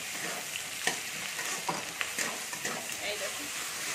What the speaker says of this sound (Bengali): আমি আধা চামচ রসুন বাটা দিলাম আর আধা চামচ আমি আদা বাটা দিলাম। এটাকে আমি একটু ভালো করে ভেজে নেব।